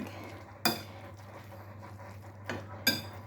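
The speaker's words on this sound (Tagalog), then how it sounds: "Ayan na, halo-haloin na lang natin." Cooked noodles with egg being stirred in a pan: a quiet, soft shuffle broken by three sharp utensil clinks against the metal, one early and two close together near the end.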